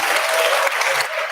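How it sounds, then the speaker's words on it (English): A brief burst of dense audience applause at a startup competition's final event, many hands clapping at once, loud and continuous for the whole moment with no talking. "Huge applause for that team."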